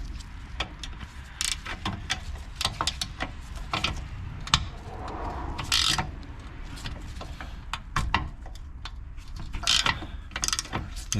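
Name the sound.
ratcheting wrench removing a sway bar link nut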